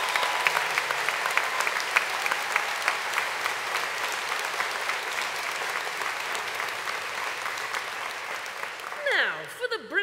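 Audience at a university graduation ceremony applauding the mature graduates, sustained loud clapping from a large crowd for nearly ten seconds, tapering off at the end as a voice briefly starts to speak.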